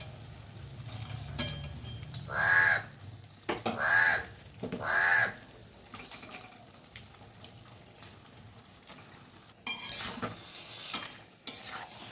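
A soft sizzle of minced meat frying in oil with occasional scraping stirs, while a crow caws three times in the background and another bird calls later.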